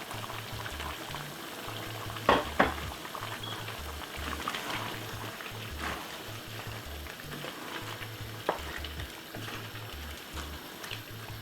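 Chicken stewing in its own juices with vegetables simmers and sizzles steadily in a pot, a continuous bubbling hiss with a couple of brief clinks near the start and no talking.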